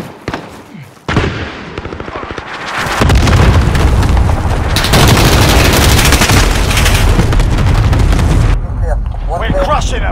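Cluster strike explosions in Call of Duty: Modern Warfare burst in a dense, loud, rumbling barrage that swells after a quiet start and rolls on for several seconds before easing off.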